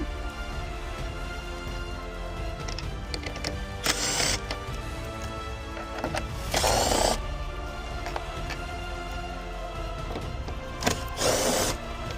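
A bit driver with a 7mm socket removing screws from a C8 Corvette tail light area, three short whirring bursts of the driver between quieter clicks and handling noise, close by.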